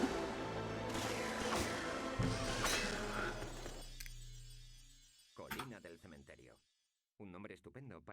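Stained glass door shattering in the video game MediEvil Resurrection, a loud crashing glass break over game audio and music for about five seconds, followed by a short silence and then game voice bursts.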